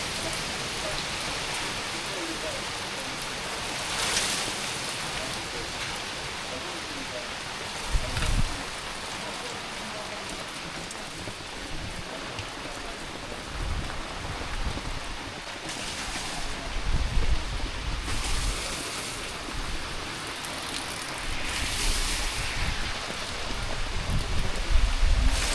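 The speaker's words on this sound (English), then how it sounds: "Oh my goodness, heavy rain." Heavy rain pours steadily onto a boat canopy, a dense constant hiss with occasional louder splashes and thuds, fairly close and continuous throughout, with faint talk now and then.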